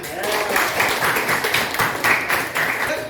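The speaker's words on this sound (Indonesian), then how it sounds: "Oke, tepuk tangan." A school class claps hands together in a room, a fairly loud burst of rhythmic, slightly uneven clapping that runs throughout, with children's voices mixed in.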